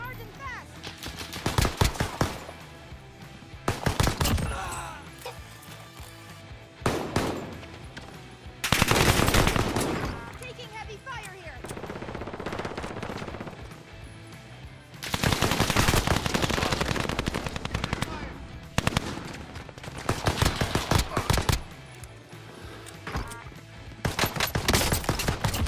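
Bursts of rifle fire from an NZ41 in Warzone, a battle royale shooter game: loud, repeated volleys of gunshots in clusters separated by short pauses, close and dominant throughout.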